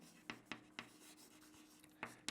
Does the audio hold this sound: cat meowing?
no